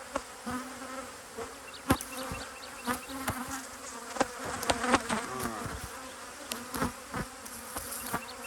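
Honeybees swarm around an open beehive during a deep box change, giving a continuous close buzzing drone with individual bees zipping past the ear and scattered sharp knocks and clicks of handling.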